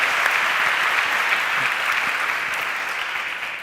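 A live podcast audience keeps up a dense, steady applause, fairly close and continuous, easing slightly in volume toward the end.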